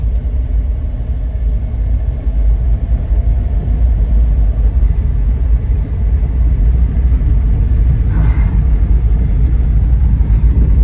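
A 2006 Jeep Liberty's engine rumbles steadily from inside the cabin on a test drive, a continuous low drone of motor and road noise with no talk.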